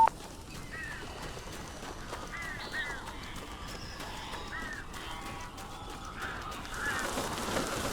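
Birds in the video game Alan Wake give repeated harsh caws and honking calls, scattered across a low, rumbling ambient background at moderate distance.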